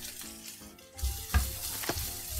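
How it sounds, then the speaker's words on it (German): Garlic sizzling in a hot frying pan, a soft hissing fry that swells after a quiet start with a couple of brief louder pops or stirs, no talk over it. "Soll der Knoblauch nicht braun sein? Er wird er halt in der Pfanne zwangsweise"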